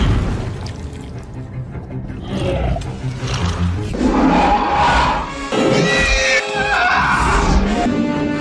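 A dragon roars in the animated film The Black Cauldron, a loud, sustained growling bellow with rising, shrieking tones that swells and surges for several seconds over a dramatic movie soundtrack.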